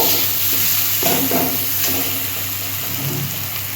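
Turmeric and red chilli powder fry in a pan of oil, a soft continuous sizzle with a few light stirring scrapes, heard close and fairly quiet.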